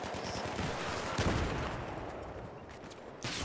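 KH2002 assault rifle gunfire in the Battlefield 3 game, a dense continuous stream of shots and battle noise with a louder burst partway through and another near the end.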